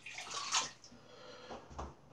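Water is splashed and rubbed onto a freshly shaved face, making soft, close wet swishes and patting sounds in a few brief bursts at low volume, with no voices.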